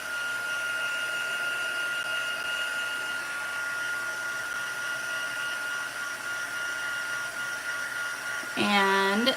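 A hair dryer blows steadily and close up, drying a handmade stamped card with a continuous whirring drone. A brief rising tonal chirp cuts in near the end.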